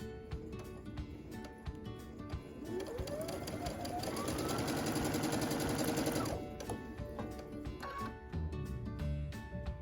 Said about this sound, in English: Put those right in line there, ready to be sewn, and start sewing again.